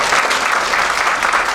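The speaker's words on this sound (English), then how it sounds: "Yeah, you can applaud that." Audience applause at a stand-up comedy show, dense and loud clapping with no break.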